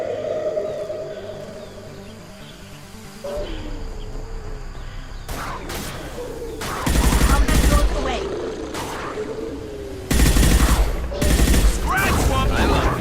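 Rifle fire in the video game Mass Effect 2 erupts in several loud, sustained bursts over a background of battle ambience, with shorter gaps of quieter rumble between the volleys.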